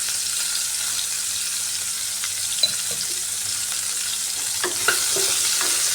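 Ridge gourd fries in a pan as a soft, steady sizzle with a few light stirring taps and scrapes near the end, fairly quiet and without voices.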